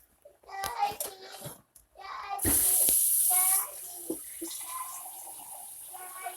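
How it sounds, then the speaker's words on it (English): Hot water runs from a tap into a sauce pan in a steady hissing gush for about a second, with voices speaking before and after. "I use the same pan that my sauce comes in, and I fill it up with some hot water"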